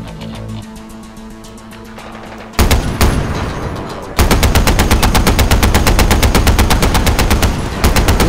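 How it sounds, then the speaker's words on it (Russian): Machine gun fire in the video game Far Cry 4, starting with a few scattered shots and then rapid, loud sustained bursts of automatic gunfire that dominate the mix. "Это что, пулемет?"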